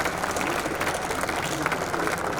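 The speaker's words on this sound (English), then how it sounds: "Applause. Thank you." Conference audience applause after a health tech competition talk, a steady, fairly loud mass of clapping with a crowd murmur underneath, continuous throughout.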